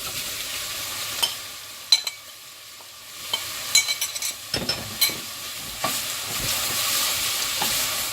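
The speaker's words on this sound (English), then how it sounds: "So we give it all a good stir." A pot of sweet potato, leek and sage soup being stirred, with scattered close scrapes and knocks of the spoon over a steady soft sizzle, with no voices.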